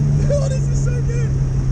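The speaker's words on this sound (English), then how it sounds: "Nice, very nice downshift." Supercharged Vauxhall VX220 on the Nurburgring with a steady droning engine tone heard from inside the cabin and slight pitch shifts as it downshifts, while someone talks excitedly over it.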